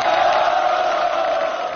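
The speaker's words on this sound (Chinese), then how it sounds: "掌声欢迎" A studio audience at a military New Year variety show claps in a dense, steady burst that fades slightly toward the end, with no talk over it.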